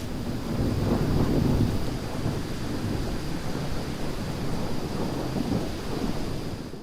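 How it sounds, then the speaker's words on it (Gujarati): Heavy monsoon rain pours steadily with a deep, rolling rumble of thunder beneath it, loud and continuous with no voices. "ગાજવીજ સાથે મેઘો મુશળધાર વરસતા"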